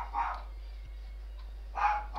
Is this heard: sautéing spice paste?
no